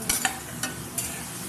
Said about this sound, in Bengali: এটা হাতা দিয়ে আস্তে আস্তে করে নেড়ে নেব